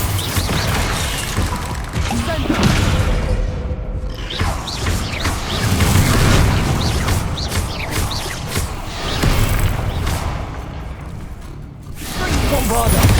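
Repeated Bombarda spell explosions in Hogwarts Legacy, heavy booming crashes and debris bursts recurring across a loud, chaotic battle.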